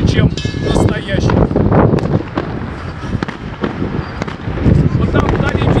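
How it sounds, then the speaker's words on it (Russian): Fireworks bursting far off along the Yellow Sea shore in China, a string of dull distant pops and crackles scattered through steady wind noise and background murmur. "Вот там вдали фейерверки, китайцы очень их любят и регулярно стреляют."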